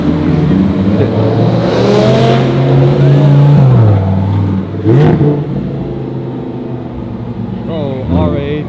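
A GT3 supercar on a Zurich street accelerates hard, its engine note climbing loudly, then dropping sharply with an upshift before pulling again, with a second rising rev burst near the end.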